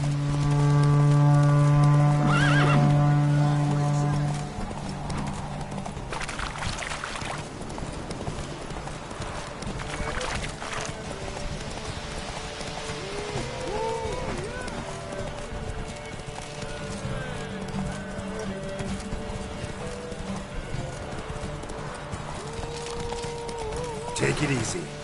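Geralt's horse Roach galloping in The Witcher 3, steady rapid hoofbeats throughout with a neigh near the start, over game music and ambience; a voice speaks briefly.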